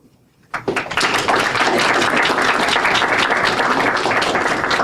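An audience breaks into applause at the close of a law, politics and media lecture, starting abruptly after a brief quiet moment and then holding as loud, dense, sustained clapping.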